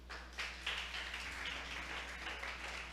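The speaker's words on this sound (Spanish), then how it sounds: "Vamos a aplaudirle al Señor." A church congregation claps for the Lord during a Spanish-language sermon, giving a steady, dense wash of many hands that holds at an even level for a few seconds with a low hum beneath.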